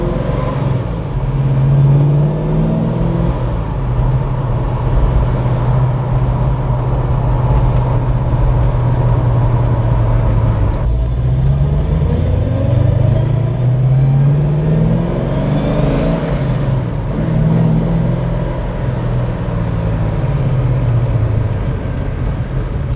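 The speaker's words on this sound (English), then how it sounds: "You can certainly hear the cam in this thing when she's idling," Ford Falcon XB GS Hardtop with a lumpy cam, its engine rumbling loudly and steadily close by, with slow rises and falls in pitch as it is blipped and revved, and no voices over it.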